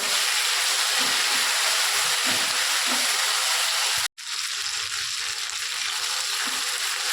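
Cumin and coriander paste with ginger-garlic paste sizzles in a hot pan while being stirred for a Bengali-style fish curry, a loud, steady frying hiss that drops out for an instant midway and then resumes.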